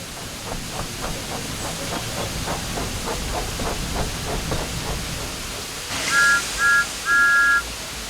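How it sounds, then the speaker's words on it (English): Thomas the Tank Engine in the Thomas & Friends Wonders of Sodor game, rhythmic steam chuffs and hissing, then three cheeky whistle toots, two short and one longer, loud and close with no talk. "Thomas likes whistling cheekily at him."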